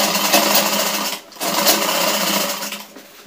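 A sewing machine runs steadily, stitching along the base of a trouser back pocket, with a brief pause before the motor picks up again; loud, close and without talk.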